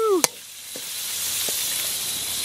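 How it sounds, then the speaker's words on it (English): Watered-down coconut milk pours into a hot pan of cooking crab and sets off a loud, steady sizzle that carries on to the end, after a brief voice at the start. "then we're gonna add the second gata, so the watered down coconut milk"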